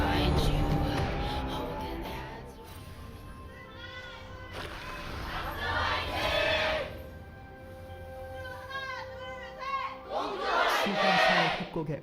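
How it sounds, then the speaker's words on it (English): A live esports crowd at a League of Legends match between ROX Tigers and Longzhu cheers and shouts in waves, loud and reverberant in an arena, with bursts of chanting swelling and fading. "Crowd seems pretty evenly split yet again. Good amount of cheers for both sides."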